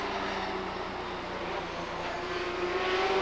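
Stock cars racing at Lee USA Speedway in a 1992 Winston Cup event, a dense continuous roar of engines holding steady and swelling slightly toward the end, with commentary audible over it.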